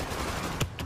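Gunfire in the World War Z video game, a single sharp shot cutting through a dense, steady background of game noise, followed by a fainter second burst.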